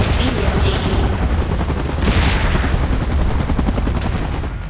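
Video game battle sounds: a helicopter's steady rotor roar with bursts of gunfire and explosions in a continuous loud mix, while a voice speaks over it.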